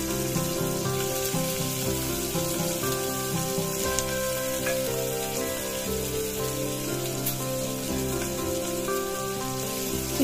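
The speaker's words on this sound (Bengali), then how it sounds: "পেঁয়াজটাকে আমাকে খুব ভালো করে লাল করে ভেজে নিতে হবে।" Chopped onion fries in hot mustard oil with bay leaves and a pinch of sugar, a loud, dense, even sizzle like heavy rain, continuous throughout with no voices.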